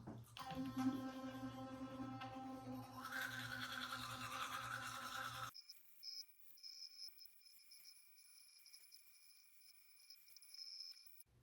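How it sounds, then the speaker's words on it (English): A Sonicare electric toothbrush brushing teeth with ordinary toothpaste, a steady high buzzing hum that shifts in tone as it moves, then cuts off and leaves a faint thin whine and quiet rustling. "I have a Sonicare toothbrush."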